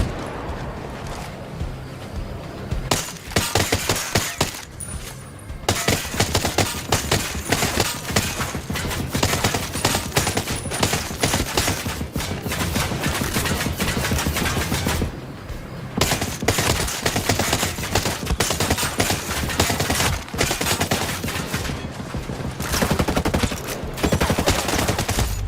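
Sustained, loud machine gun fire from a gun turret in Ghost Recon Breakpoint, dense rapid bursts filling nearly the whole stretch with only brief pauses between volleys.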